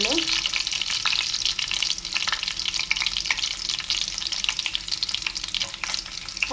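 Garlic sizzles steadily in hot oil in a pan, a loud, continuous frying hiss broken by light scraping and clinks as it is stirred.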